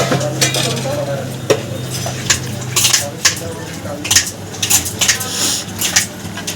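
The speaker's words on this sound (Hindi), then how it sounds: "ये डला सरसों का तेल, इसमें आ गया जीरा और इधर कटिंग हो रहा है हरी मिर्च लंबी लंबी" A home kitchen cooking vegetable dish in a kadhai with mustard oil and cumin, green chillies being cut into long strips: continuous sizzle with repeated sharp clinks and scrapes of utensils, busy and close throughout.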